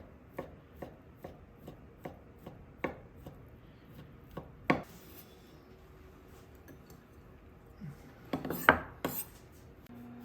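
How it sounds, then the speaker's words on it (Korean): A knife slices bacon thinly on a cutting board, with a quick run of light, evenly spaced chops followed by scattered knocks and utensil clinks, close but fairly quiet, no voices. "베이컨은 얇게 썰을게요 채치듯이"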